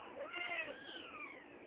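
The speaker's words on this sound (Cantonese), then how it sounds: "呢隻就係貓花啦。" A cat gives one drawn-out meow, faint and slightly rising then falling, over quiet room noise.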